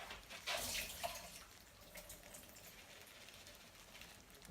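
Cooking water being drained off boiled sweet potato, a splashing pour that starts loud and then settles into a softer, steady trickle, faint overall with no voices.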